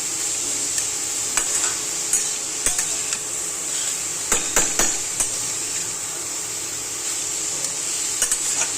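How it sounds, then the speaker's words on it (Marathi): Carrots frying in ghee in a pan for gajar halwa, a steady sizzle under repeated stirring scrapes and occasional utensil knocks, close and continuous with no talking. "हे गाजर चांगलं आहे ना फ्राय होऊन द्यायचं"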